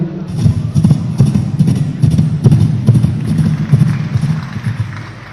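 At a school arts festival mimicry contest, a person mimics a galloping horse with quick, rhythmic clip-clop clicks in a steady running beat, close up, no words.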